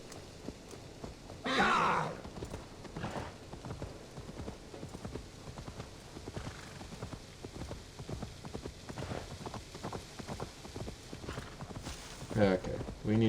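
Horse hooves clip-clopping at a walk along back roads in the video game Assassin's Creed Valhalla, a steady close plodding rhythm with occasional louder bursts, heard under someone talking.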